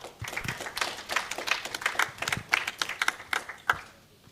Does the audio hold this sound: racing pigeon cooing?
no